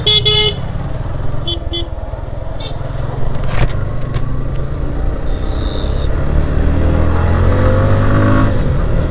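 A Suzuki Gixxer Monotone motorcycle rides fast through traffic in strong sun, with loud, constant wind roar and engine drone and a few car horns honking nearby.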